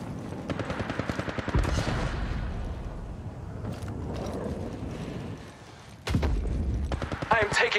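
Automatic weapons fire in the mobile battle royale game Apex Legends Mobile: rapid clusters of sharp, close shots, a brief lull midway, then renewed bursts of rattling gunfire.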